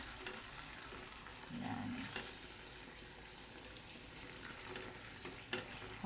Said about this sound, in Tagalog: Dahan-dahan lang sa pag-stir pagka-liver na kasi mabilis siya madurog.